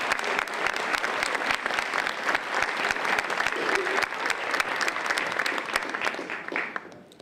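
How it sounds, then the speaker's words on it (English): An audience at a community volunteer awards ceremony claps for the award recipients, steady and full for several seconds before tapering off near the end. "Let's have a big round of applause for these dedicated individuals."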